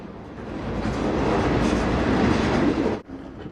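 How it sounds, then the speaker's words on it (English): A train's wheels clatter on the rails in a loud, steady rumble with a rhythmic clickety-clack, cutting off abruptly near the end. "the clickety-clack of the wheels on the rails can take us back in time"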